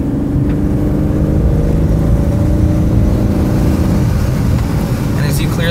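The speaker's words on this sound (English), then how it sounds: "we're gonna get up to speed down this road real quick" A 2007 Dodge Nitro on a test drive produces a loud, steady engine drone and road rumble from inside the cabin as it builds speed down a road, constant throughout with no breaks.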